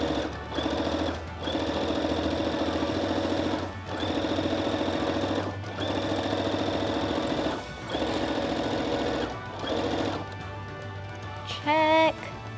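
A sewing machine stitches a fabric drawstring bag in steady bursts of loud whirring, pausing briefly between runs as the fabric is pivoted, with a short voice near the end.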